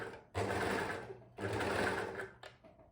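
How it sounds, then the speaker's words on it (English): An overlocker stitches the shoulder seams of a stretch mesh dress, running in two steady whirring bursts of about a second each, then a short final stitch, close and clear with no speech. "which I'm going to sew using the overlocker"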